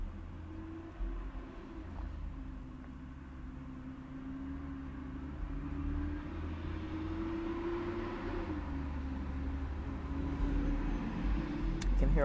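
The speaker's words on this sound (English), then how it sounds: "You can hear all the trucks and buses" Heavy road traffic of trucks and buses rumbles past at a distance as a continuous low drone with a steady engine hum that swells slightly, no talking over it.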